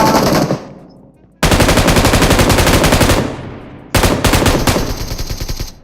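Loud automatic rifle fire in the mobile battle-royale game PUBG Mobile, rattling out in three long rapid bursts separated by short pauses, close and dominant.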